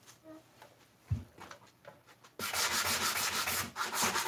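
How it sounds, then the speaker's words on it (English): Sandpaper rubs over a wooden banquet side table during distress finishing, first as light scattered scuffs, then as a loud, continuous rhythmic scrubbing for the last couple of seconds. "Let's go ahead and sand this here at the top also."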